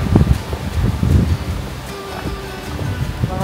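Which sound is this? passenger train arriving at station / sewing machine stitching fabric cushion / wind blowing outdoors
wind blowing outdoors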